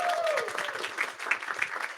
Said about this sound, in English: JC, hand clap.